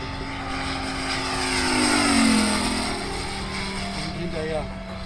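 A fast 3D-printed XTR-33 RC plane with a 9 to 10 horsepower engine screams past at around 200 km/h, its propeller whine rising and falling in a Doppler sweep while people talk nearby.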